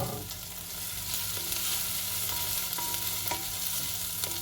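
Bolognese sauce sizzles in a pan as it is stirred, a continuous close frying hiss with soft spoon scrapes and a low hum beneath, no talking.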